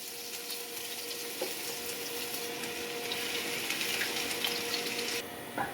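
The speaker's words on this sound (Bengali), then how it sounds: "এই দেখুন আদা আর রসুন কুচি যেটা করে রেখেছিলাম সেটা তেলে আমি দিয়ে দিচ্ছি।" Chopped ginger and garlic hit hot oil in a pan, giving a steady, fairly quiet hissing sizzle that swells slightly midway and continues without a break.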